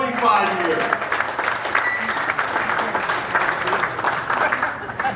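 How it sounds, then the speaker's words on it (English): Audience applause fills a Grosse Pointe South baseball Hall of Fame gathering, steady, dense and fairly loud for about five seconds, with a few voices mixed into the clapping. "Round of applause."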